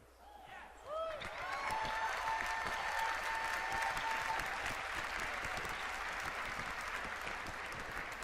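A crowd at a World of Warcraft presentation breaks into cheering and applause that swells quickly and holds loud and steady for several seconds in a large hall.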